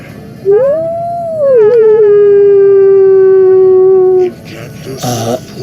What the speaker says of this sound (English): the noise of soldiers and men begins to be replaced by a distant howl that pierces the cold stone